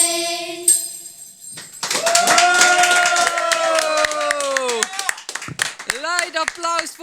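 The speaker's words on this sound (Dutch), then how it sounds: "Luid applaus voor jullie." Audience applause after a children's choir sings Jingle Bells at the Glazen Huis in Geleen. A held sung note fades into clapping and cheers, and prominent voices talk over the crowd.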